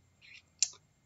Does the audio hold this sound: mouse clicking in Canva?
yes